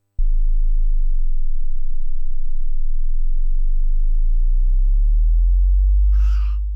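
A very deep, steady bass tone from a Sequential Fourm synthesizer drones loudly and evenly for several seconds, with a brief breathy noise near the end.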